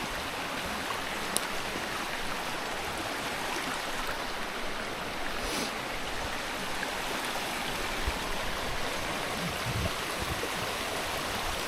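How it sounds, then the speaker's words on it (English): Steady rushing of a flowing stream, continuous and fairly close, with water babbling over rocks and no voices. "It's cool to see the way the water flows, you know what I mean? Just listening to it."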